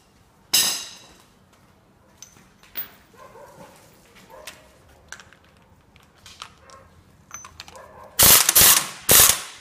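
A hand ratchet with a 32 mm socket unscrews a nut on a Nissan Murano Z51 transfer case, giving scattered clicking and clanking taps from close by, then several loud bursts of mechanical rattling near the end.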